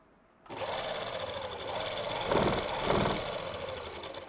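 A sewing machine stitches a plazo with a fast, even mechanical whir that begins abruptly after a short quiet moment and then runs continuously at close range.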